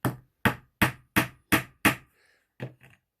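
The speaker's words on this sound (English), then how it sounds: "tap the nail in" A hammer taps a nail into wood in six evenly spaced, sharp strikes, then pauses and lands two lighter taps, close and clear with no other sound.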